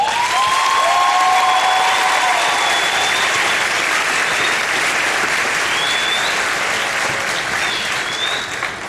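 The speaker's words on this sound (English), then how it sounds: "so I'd like to give them a round of applause" A large graduation audience for Lynn English's class of 2013 applauds loudly and steadily. Scattered whistles and cheers rise over the sustained clapping, which eases slightly near the end.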